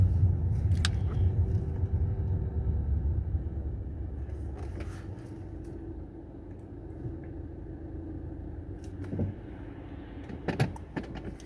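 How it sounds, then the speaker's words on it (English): Car being parked, a low engine rumble that fades as it settles, followed by a few scattered clicks and knocks, moderately quiet with no talking. "I'm gonna go ahead and park my car now."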